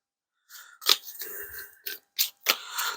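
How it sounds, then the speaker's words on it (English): Board game terrain cards being shuffled by hand, a few short papery riffles and slaps close up with brief gaps between them, no talk. "Now these, I'm just shuffling these up"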